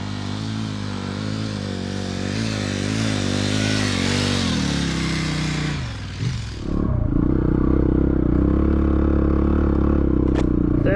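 A KTM 1190 motorcycle accelerates through the gears on a desert track, engine pitch climbing in steps, a brief dip at a shift, then a loud, steady drone close by.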